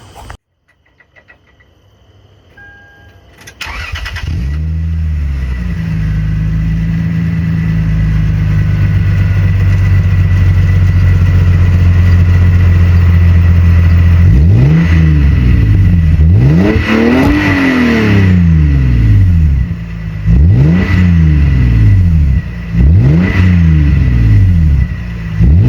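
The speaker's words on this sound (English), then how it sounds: "I'm gonna throw a clip in here so you guys can hear it on a cold start" A Lexus IS300 with a Megan Racing cat-back exhaust starts cold after a few seconds of quiet, then idles steadily with a low exhaust rumble, punctuated by several short revs that rise and fall.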